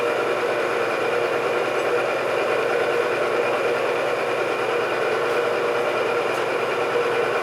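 A milling machine runs a 1.25-inch high-speed steel roughing mill at 500 RPM, cutting knives in a home shop. The steady, close, even mechanical drone and grinding hum go on without a break, with no voices.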